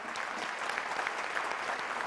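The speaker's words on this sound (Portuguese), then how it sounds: "uma salva de palmas" Steady applause fills a solemn session of the São Paulo Legislative Assembly honouring a Supreme Federal Court justice, many hands clapping evenly for the whole stretch without a break.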